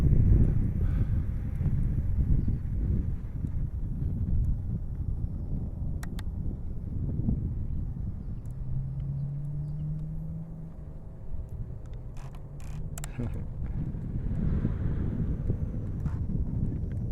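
Gusty wind buffeting the microphone outdoors while an RC warbird plane flies, a rough low roar with a faint motor whine passing through midway.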